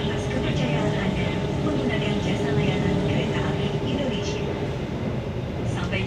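The Sri Tanjung passenger train rumbles steadily from inside a carriage, a continuous loud rolling drone with faint rail clatter, while a passenger announcement plays over it.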